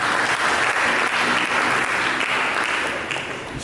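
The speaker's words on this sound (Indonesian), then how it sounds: "Mari kita berikan tepuk tangan." A church congregation applauds in a loud, continuous burst of many hands clapping that tapers slightly toward the end.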